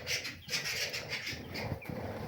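Muscovy ducks feed in a warm, enclosed farm pen, giving soft, quiet, scattered calls over a low, busy background murmur.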